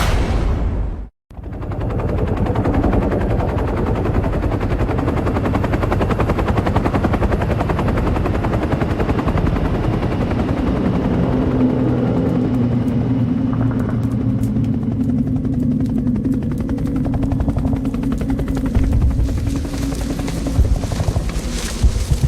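Helicopters roar loudly and continuously with rapid bursts of gunfire mixed in, a dense, sustained din of rotors and shooting after a brief cut near the start, with no talking.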